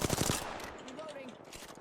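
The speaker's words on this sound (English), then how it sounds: "The enemies are shooting at me." Enemy gunfire in the Apex Legends battle royale game, a rapid automatic burst of shots loud at the start, then fading into softer game noise and faint shots.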